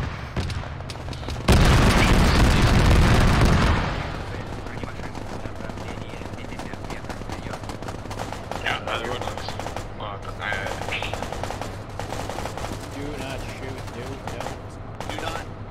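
Gunfire in a military squad video game: a loud, dense burst of rapid machine-gun fire about two seconds long, then scattered fainter shots and distant battle noise under radio chatter.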